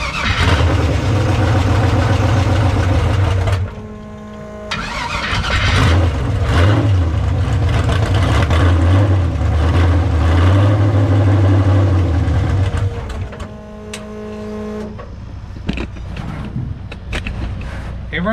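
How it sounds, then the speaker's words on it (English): A car engine with a worn flex plate cranks, catches and then runs at a steady idle, loud and close, with a brief dip in the rumble midway and some mechanical clatter near the end. "But honestly, the car starts right up anyways."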